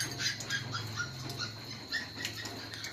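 Two new puppies make soft, high whimpers and short yelps in repeated little bursts, faint and close, with no talk.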